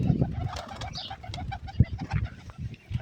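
Pet pigeons cooing close by, a series of soft, low, throaty coos repeating in an uneven rhythm with faint rustling around them.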